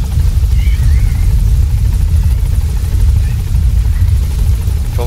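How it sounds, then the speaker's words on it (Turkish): Helicopter flying in Metal Gear Solid V: The Phantom Pain, a loud continuous rotor rumble that stays close and steady throughout. "Çok yalp oluyor lan helikopter."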